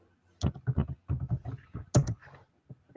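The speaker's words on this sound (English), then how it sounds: "I can hear you typing." Keys clatter on a computer keyboard, heard through a voice call as a quick, uneven run of sharp clicks, fairly faint and slightly compressed, with short pauses between bursts.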